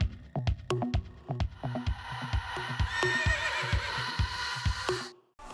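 Racehorses in training, with steady rhythmic hoofbeats thudding close by, joined midway by a loud, drawn-out neigh before the sound cuts off.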